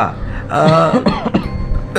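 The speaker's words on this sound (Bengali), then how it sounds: "তুমি বেজায় কাশছো দেখছি। তা কবে থেকে চলছে এই কাশি?" A man coughs several times in a radio drama, harsh throaty bursts packed close together and heard up close, followed by a spoken voice.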